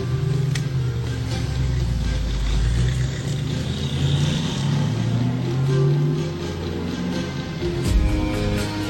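A car engine droning close by in a rising and falling rumble that is loud and continuous throughout, with no voices.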